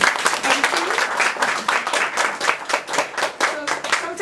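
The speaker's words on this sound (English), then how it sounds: "A round of applause, please." An audience at an art exhibition in Singapore claps in a dense, lively round of applause, close and loud, with a few voices mixed into the clapping.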